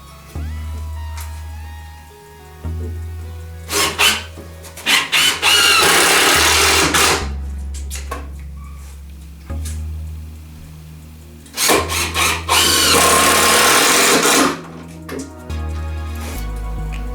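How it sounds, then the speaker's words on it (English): Power drill driving screws into a wooden porch swing, several loud bursts of whirring and grinding separated by pauses, with a steady low hum underneath. "I'm drilling it in"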